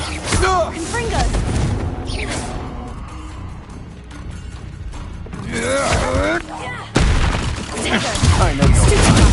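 A Confringo blasting spell is cast in Hogwarts Legacy, with loud booms, crashes and smashing bursts over busy game action, one strong blast landing near the end, as voices talk during it.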